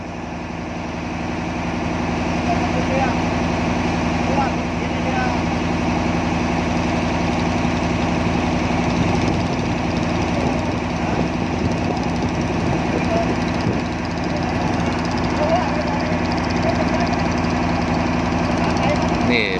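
A boat engine drones steadily throughout, constant and fairly loud, with a low hum and faint splashing texture, cruising on the Pattani River toward the Gulf of Thailand.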